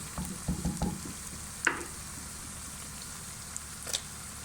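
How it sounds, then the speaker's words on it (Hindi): Tomatoes and softened onions sizzle steadily in a hot pan, with a few soft clunks and stirring scrapes over the constant frying hiss; no one speaks. "ये प्याज जो हमारे हैं ये थोड़े से नरम हो चुके हैं। अब इसके अंदर हम टमाटर ऐड करने लगे हैं।"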